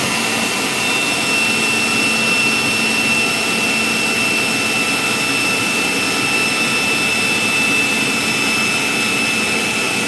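A jet turbine engine on an RC SU-30 model runs up with a loud, continuous, high-pitched whine and roaring rush that stays steady throughout.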